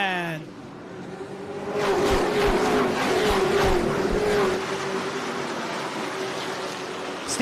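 A pack of late model race cars roars past on a dirt oval as the green flag drops, engines building to a loud, sustained drone before easing slightly, with an announcer talking over them.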